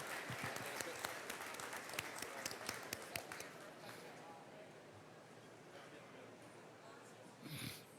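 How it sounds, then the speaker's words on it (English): Audience at an electric cooperative's annual meeting claps for retiring employees, with faint, distant applause that fades while chatter continues underneath and a brief bump of noise near the end. "Let's give a round of applause for these special employees of Jackson EMC who serve you"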